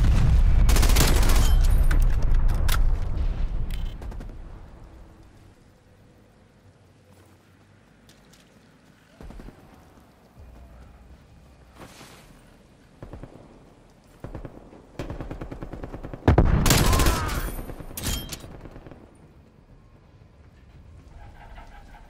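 An incoming artillery barrage pounds a video game battlefield, with loud bursts of rapid gunfire and blasts at the start and again later, separated by quieter stretches of scattered impacts and shots.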